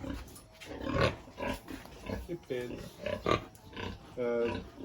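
Pigs on a farm grunt and snort repeatedly in short bursts close by, mixed with people talking over them.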